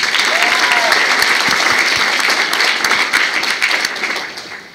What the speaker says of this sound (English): let's give a huge round of applause to our state officers and the volunteers for that amazing performance